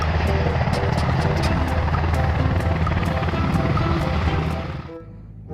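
Toy helicopter whirring steadily and loudly with a fast rhythmic buzz of rotors and motor, cutting off near the end.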